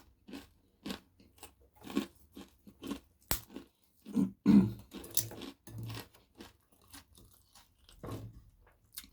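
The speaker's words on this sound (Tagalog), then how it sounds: "Malutong ang balat ng chicharon." Crispy chicharon pork rind is chewed close to the mic, with a steady run of sharp crunches and crackles spaced through repeated bites, loud and alone without talk.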